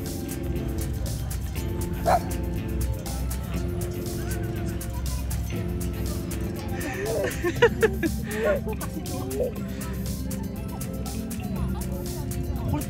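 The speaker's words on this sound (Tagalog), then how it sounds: "May aso, nak." A dog barks a few times in the distance over steady background noise and traffic rumble, with people talking nearby, in Cornwall Park, New Zealand.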